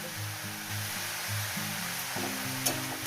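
Beto greens frying with dried shrimp in a pan, with a soft steady sizzle and a few faint stirring taps, close and quiet under a low mechanical hum.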